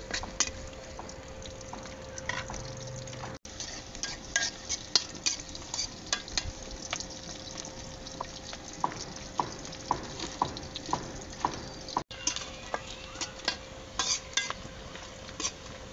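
Whole spices such as cinnamon pieces, bay leaves and two black cardamoms fry with ground spice paste in a pot for a beef curry, giving a steady low sizzle with scattered clicks and scrapes of stirring throughout.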